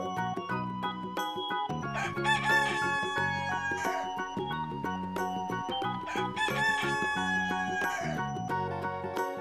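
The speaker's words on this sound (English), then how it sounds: "And the next one we have is a rooster." A rooster crows a couple of times, loud and near, against a steady, tonal musical backing.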